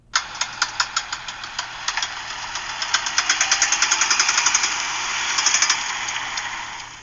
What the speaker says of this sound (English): Yeah, it's a bad CV joint.